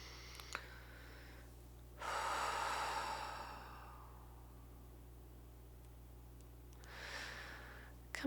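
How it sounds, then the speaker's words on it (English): A deep breath taken during a tapping exercise, one slow audible inhale and release lasting a couple of seconds, followed by quiet and a second softer breath near the end. "Taking a breath here."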